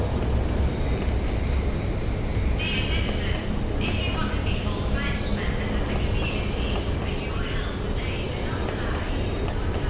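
A train ride in the 7th Sector video game: a continuous rumbling rail drone with faint metallic squeals and rattles throughout, someone talking over it.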